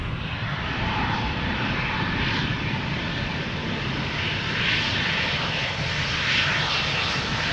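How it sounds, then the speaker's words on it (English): Embraer E2 jet turning on the runway and powering up for takeoff at Amsterdam Schiphol, a steady engine roar with a rising whine that swells slightly toward the end, heard alone without voices. "The E2 Embraer is doing a turn and burn."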